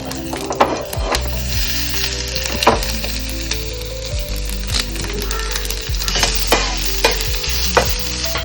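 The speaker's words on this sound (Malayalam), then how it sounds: "അതുകൊണ്ടാണ് ഞങ്ങൾ അവസാനം വെളുത്തുള്ളി മൂപ്പിച്ച് ഇട്ടു" Crushed garlic frying in hot oil for sambar gives a steady close sizzle with scattered crackles and spoon stirring clicks throughout.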